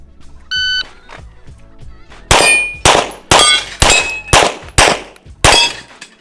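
Bullets strike a steel target, giving six loud metallic dings in quick succession after a short electronic start beep from a shot timer, fired with minimum power factor ammunition at an outdoor range.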